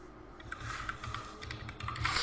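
Rapid keystrokes on a computer keyboard while a captcha is entered on a government ID download page, a close, steady patter of clicks with no talking.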